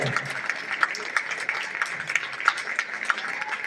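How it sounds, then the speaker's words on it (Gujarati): Loud, dense crowd applause at a Gujarat Sthapna Divas celebration in Anumala Township, a steady patter of many hands clapping throughout with voices mixed in. "એક રે જોરદાર તાળીઓ"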